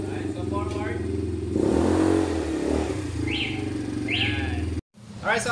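A small budget ATV engine runs as the quad drives forward, a steady low motor drone that swells briefly as it moves, with a couple of high chirps and a short cutout near the end, under some nearby talk.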